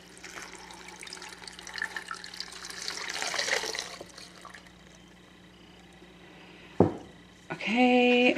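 Nearly boiling water poured from a container onto spinach leaves in a pot, a steady splashing pour that swells over the first few seconds and then tapers into quieter trickling, with a sharp clatter near the end.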